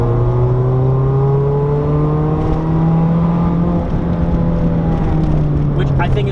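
Mazda Miata supercharged to nearly 220 wheel horsepower, driving on a mountain touge road, its engine droning steadily and loud, pitch rising gradually, with wind and road noise throughout.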